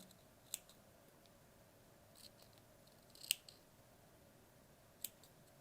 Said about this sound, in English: I'm actually just going to hold it against the foam and have a go at cutting it out like so.